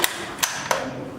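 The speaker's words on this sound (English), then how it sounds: "As I've said, this is manual bolt action" Manual bolt-action rifle being worked at a shooting contest, three sharp metallic clicks spaced about a third of a second apart, close and fairly quiet with no talking.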